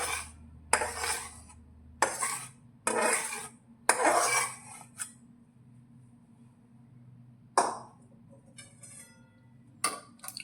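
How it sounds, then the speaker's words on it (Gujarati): Heated jaggery being scraped and mixed into roasted flour for Gujarati sukhdi, heard as several sharp metallic spoon-on-pan clinks and scrapes in irregular bursts with quiet gaps between, close by. "હવે આપણે ગરમ થયેલા ગોળને શેકેલા લોટની અંદર લઈ લઈશું"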